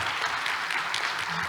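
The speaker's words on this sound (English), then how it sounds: "a big round of applause to everyone on stage" Audience applause at the end of a fireside chat panel session on sustainability in ASEAN, a dense, even wash of clapping from a seated crowd, fairly loud and continuous.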